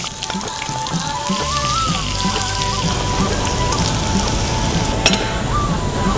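Shallots and mustard seeds sizzling in hot ghee for a sweet pachadi, a loud continuous crackle with scattered pops and a faint tonal whine running through it.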